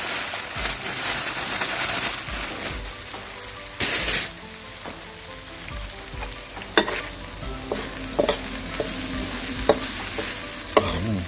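Crispy pork being stir-fried with holy basil leaves in a hot pan, a steady sizzle broken by sharp scraping clatters of the spatula against the metal, close and fairly loud, with no voices.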